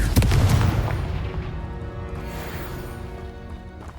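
Confringo blasting spell detonating in Hogwarts Legacy: a loud, booming explosion hits at the start and rolls off into a long, rumbling decay that fades over several seconds with no talk.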